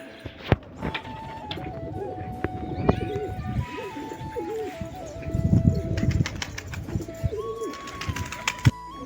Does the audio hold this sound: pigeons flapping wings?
yes